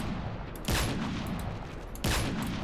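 Gunfire in the video game Call of Duty: Modern Warfare 3 comes as two loud, close bursts about a second and a half apart, each fading into a rattling tail.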